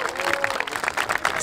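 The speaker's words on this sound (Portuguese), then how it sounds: "Uma salva de palmas aí pro Corre Independente" An audience at a street rap battle claps and cheers steadily, with a crowd roar and voices mixed into the short burst of applause.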